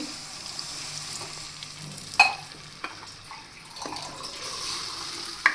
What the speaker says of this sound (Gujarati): હવે આપણે તેમાં પાણી એડ કરી દઈશું